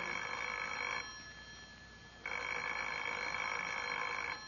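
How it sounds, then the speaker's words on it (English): An old-fashioned telephone bell rings in two long bursts separated by a short pause, loud and close in a home setting with no one talking over it. "Well, answer the phone, Lancelot"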